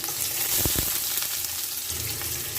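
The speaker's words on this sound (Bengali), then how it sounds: "তেল গরম হয়ে গেছে এবার ফোড়নে দিয়ে দেব জিরা এবার দিয়ে দেবো পেঁয়াজ কুচি রসুন কুচি" Cumin, chopped onion and garlic hitting hot oil in a pan, giving a steady close sizzle with a couple of brief stirring knocks and no voices.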